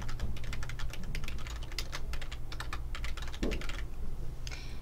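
Rapid, steady typing on a computer keyboard while entering a username and password, with dense close key clicks running almost the whole time and a brief pause near the end.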